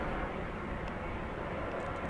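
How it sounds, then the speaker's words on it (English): An aeroplane passing overhead in London gives a faint, steady distant engine roar that fills the moment without other sounds or voices. "Aeroplanes."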